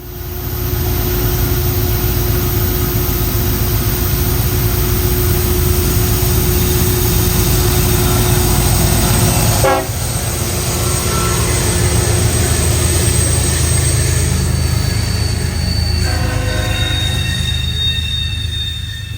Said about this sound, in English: Rumbling up the gradient with two more unmistakable big blue GE wide cabs was westbound I-117.